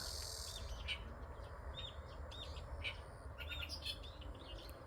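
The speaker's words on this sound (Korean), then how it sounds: "새소리, 풀, 풀벌레 소리도 들리고" Small birds chirp and tweet in short bursts over a constant low hum of insects in grass, soft and somewhat distant, at a lotus pond in an ecological park.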